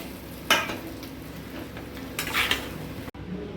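Fried fish being lifted out of a pan with metal utensils, giving two short clinks and scrapes against the pan over a faint background sizzle, with no talking.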